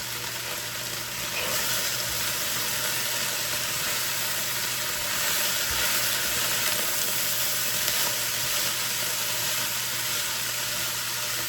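Hamburger beef and greens sizzling in a pan, a steady loud hiss and crackle holding evenly throughout with a faint low hum beneath.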